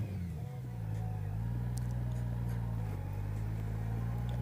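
A Honda Goldwing motorcycle rides through neighborhoods at night, its engine holding a steady, continuous hum with a slight dip in pitch, heard up close and alone throughout.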